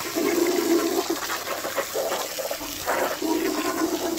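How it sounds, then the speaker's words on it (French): A water jet rinses a car's carpet with a loud, close rushing spray. The spray surges and dips in uneven bursts, and no voice is heard. "J'ai la possibilité, moi j'ai la chance de pouvoir passer le jet. Donc, allez, on passe au jet."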